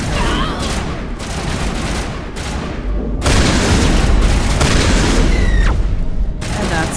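Shotgun blasts in Mass Effect 1 Legendary Edition combat, loud and dense, with heavy booming bursts repeating across the clip and a short quieter gap between volleys.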